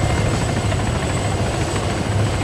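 A helicopter flying in the Arma 3 video game, a steady, loud rotor and engine roar that stays close and constant throughout.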